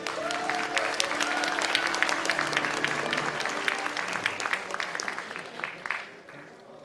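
Audience applause at a political party's launch ceremony, welcoming a former party leader to the stage: dense, sustained clapping from a large crowd, steady for about six seconds before tapering off, with faint voices mixed in.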